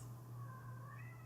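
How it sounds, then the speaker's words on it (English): A cat meows once in a quiet room, a faint, drawn-out mew with a rising tone over a steady low electrical hum, with no talking. "I don't even know if you can hear the cat meowing"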